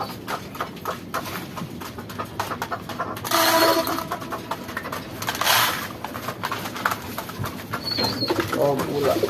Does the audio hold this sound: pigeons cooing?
yes